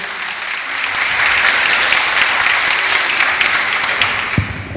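An audience at a book presentation claps steadily, a dense wash of clapping that builds quickly, holds evenly for several seconds and begins to thin toward the end, with no voices over it.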